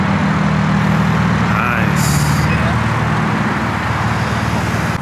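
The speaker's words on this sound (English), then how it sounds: "got some more BMWs coming in." BMW cars roll into a car meet in Southern California, a loud steady engine and road drone up close with a brief hiss partway through, under continuous background noise and faint talk.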